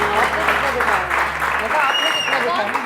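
Applause from a studio audience on a Pakistani TV morning show swells into steady, dense clapping over a low background hum, with a voice briefly audible over it.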